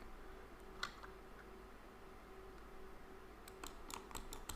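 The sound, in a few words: computer mouse clicking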